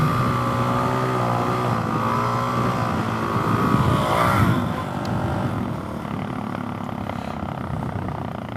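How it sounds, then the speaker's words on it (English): A Suzuki DRZ470 dual-sport motorcycle revs hard under throttle during a wheelie, a loud continuous engine drone that swells around the middle and then eases slightly, with no talking. "I guess we ought to do an obligatory wheelie. And that's just throttle, people."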